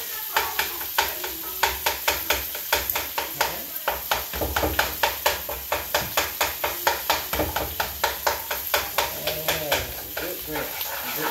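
Someone stirs a pot of home-cooked food, the spoon knocking and scraping in a quick, steady rhythm over a soft sizzle for about eleven seconds, close and fairly loud.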